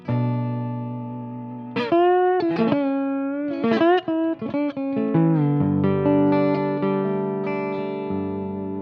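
A clean electric guitar through a Tungsten Amplification Mosaic tube amp plays a few plucked notes and chords, sustaining warmly with a slight amp glow and no distortion, ringing out into a long fade.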